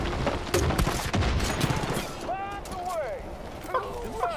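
Gunfire in the video game Far Cry 5: a dense burst of rapid shots for about two seconds, then scattered rattling and sweeping electronic whistles, with someone talking over it.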